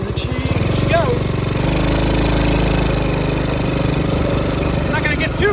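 Gas-powered Jeep Power Wheels ride-on with a small engine, a steady buzzing drone that runs throughout, close and loud, with a voice talking over it.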